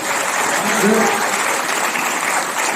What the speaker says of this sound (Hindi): एक बार ताली बजा के बंद दे दो वापस से,